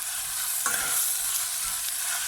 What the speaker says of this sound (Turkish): Kızgın yağda güzelce yumuşayana kadar kavuruyorum